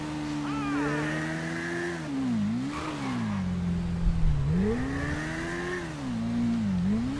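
Suzuki V-Strom motorcycle engine in GTA V, droning steadily while riding, its pitch rising and dipping repeatedly as the throttle shifts, loud and close with no talk over it.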